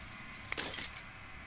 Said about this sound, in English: As the final fragment of glass shatters, you see yourself within